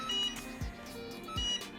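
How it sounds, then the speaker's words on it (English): Cricut hat press giving off a pair of faint, evenly spaced electronic beeps, each a short tonal blip, in a quiet room with no talking. "my hat press is beeping."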